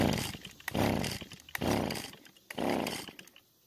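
A Stihl trimmer engine with low compression is pulled over by its starter for a compression test, giving three close, rising-and-falling cranking surges in steady rhythm, with a ratcheting rasp at each pull.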